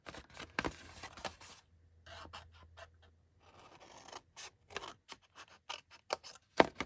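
Scissors snip through paper in a quick series of close, crisp cuts, with brief pauses and some faint rustling between snips.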